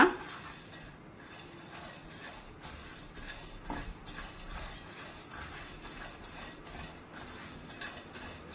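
Poha and roasted gram are dry-roasted in a pan over a low flame and stirred, giving quiet, steady scraping with light metallic clinks of the spatula that continue throughout.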